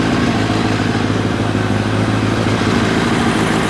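A 1990 Kawasaki ZZR1100 motorcycle engine, leaking air and sprayed with carb cleaner, runs as a loud, steady, close rumble throughout with no talking.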